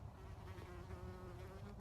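A bee buzzing outdoors, a faint, steady drone held close for a couple of seconds with no talk over it.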